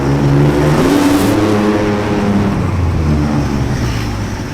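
A 2025 Ford Ranger Raptor V6 fitted with a Magnaflow full exhaust revs hard below full throttle, a loud, close, deep growl that rises and holds, with no talk over it.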